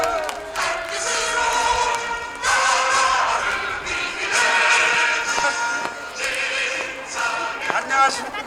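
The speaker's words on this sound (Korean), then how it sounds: "큰 박수로 환영해 주십시오." Crowd at an outdoor political rally in Busan breaking into applause and cheering as a speaker is welcomed to the stage, a dense surging wash of clapping and voices with rising bursts.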